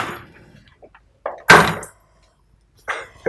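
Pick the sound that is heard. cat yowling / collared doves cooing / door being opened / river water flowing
door being opened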